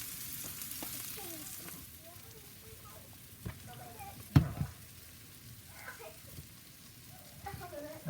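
Philly sandwich filling sizzles on a soapstone slab over a Big Joe grill, a steady low frying hiss with occasional scraping and clacks from stirring, close and moderately loud.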